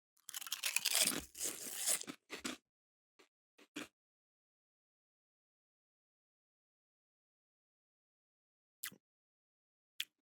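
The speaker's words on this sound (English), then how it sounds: "The chips look good. They're very thin. It's a nice texture. I assume they'll have a nice crunch." Thin potato chips made with olive oil and salt are crunched and chewed in a dense burst of close, crisp crackling. A few isolated crunchy bites follow after long silent pauses.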